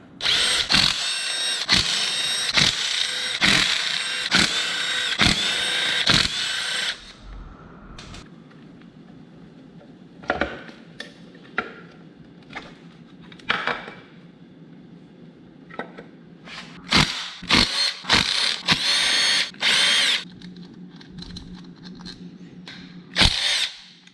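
A power drill whirs in repeated short bursts while backing out the stator cover bolts on a 2007 Honda CBR 600RR under rebuild. There is a dense run of bursts at first, then a quieter stretch with sparse handling clicks, then more bursts.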